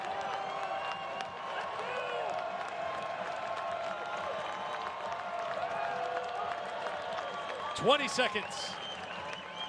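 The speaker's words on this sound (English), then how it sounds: "You can hear the crowd in Frisco." Lacrosse crowd in Frisco at a Major League Lacrosse semifinal, a steady far-off roar with scattered clapping and cheering under close play-by-play commentary, with a brief sharp burst near the end.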